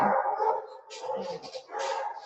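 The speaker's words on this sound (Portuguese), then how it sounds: "tem um cachorro latindo" A dog barks and yelps nearby, a few loud, uneven bursts with brief gaps, some sounding whiny, and a person talks at the same time.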